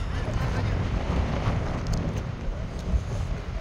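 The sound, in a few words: strong wind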